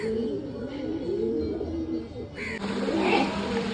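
Pigeons flying in heavy rain, soft coos and bird calls over a constant wash of falling rain, moderately close.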